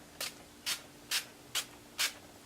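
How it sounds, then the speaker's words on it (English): Wet n Wild Photo Focus Natural Finish setting spray misted onto a face in five short, evenly spaced hissing bursts, each about a quarter second long, close and clear over quiet room tone. "I have the Wet n Wild Photo Focus Natural Finish Setting Spray today. So you're going to shake it up a little bit and just kind of go in on the face."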